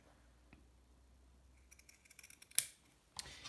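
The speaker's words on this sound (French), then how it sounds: "je vais couper selon la marge de couture et je ferai ici des encoches à chaque fois que j'ai un angle" Fabric being cut along a sewing seam allowance with scissors: quiet, close snips and crisp clicks build up toward the end, one brighter sharp snip standing out against near silence.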